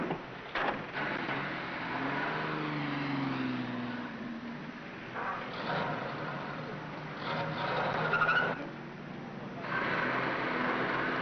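A car backs slowly into a parking stall in an old radio comedy. Its engine hums steadily for about eleven seconds, rising and falling a little, with a few soft knocks and shifts along the way.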